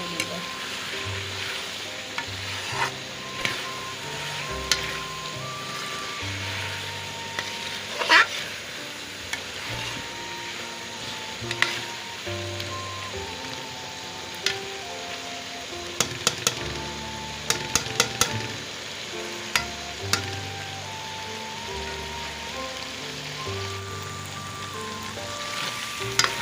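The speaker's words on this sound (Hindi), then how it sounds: "ये आलू और सब मिर्ची की अच्छी तरह बुनाई हो गई है।" Diced potatoes with finely chopped and whole chillies fry in a pan for a home-style aloo anday breakfast: a steady, close sizzle with scattered clicks and scrapes as the mixture is stirred, no talking.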